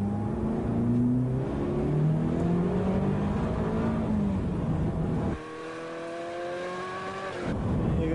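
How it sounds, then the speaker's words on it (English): A 1990 Ferrari F40 accelerates hard around the wet Fiorano test circuit, its engine note climbing loud and close through rising revs, easing briefly and pulling again, with no talk. "You can see with the acceleration of the car"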